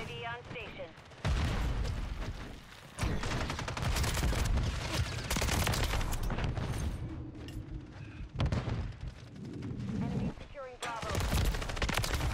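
Rapid gunfire in the Modern Warfare 3 video game, including shotgun blasts, erupts in dense loud bursts separated by brief pauses, with a player talking over it.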